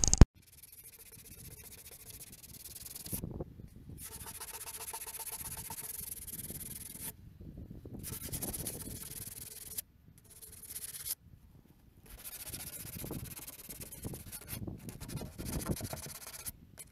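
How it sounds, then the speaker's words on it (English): Sanding an old mailbox by hand, with a steady, close rasping rub in long strokes broken by a few short pauses. "Alright, so now I got it all sanded down as best as I can."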